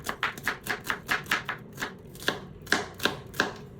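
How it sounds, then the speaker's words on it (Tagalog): A knife chopping onion on a cutting board, a quick run of crisp, evenly spaced cuts, then a short pause and several slower, firmer chops, close and clear. "Una kong hiniwa itong sibuyas."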